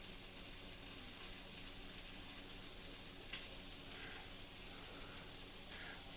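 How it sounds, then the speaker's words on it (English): Batch-cooked chicken fries in a pan, giving a faint, continuous hissing sizzle that holds steady throughout with no voices. "It's not the same piece of chicken that's been frying for an hour."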